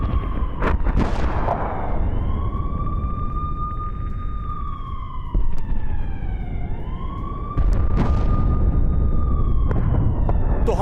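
Bombing at a port in Yemen, heard in news footage: loud, rumbling blasts and sharp bangs come amid a wailing siren that rises and falls, all dense and continuous, with no clear speech.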